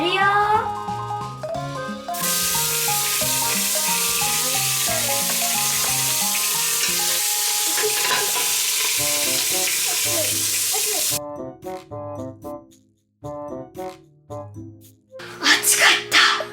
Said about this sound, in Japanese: お肉が茶色くなるまで炒めます。